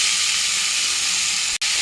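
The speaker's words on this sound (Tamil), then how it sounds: "குடமிளகா வெங்காயம் எதுவுமே சீக்கிரமாகவே வதங்கிடும்." Onion and capsicum sizzling in hot oil with mustard seeds, cumin and curry leaves: a steady, close, loud hiss with a brief break near the end.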